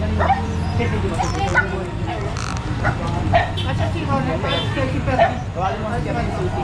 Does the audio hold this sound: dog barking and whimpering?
yes